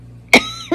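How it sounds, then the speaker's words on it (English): A single sharp cough, close and fairly loud, followed by a brief softer sound at the end. "I have a bit of a cough still."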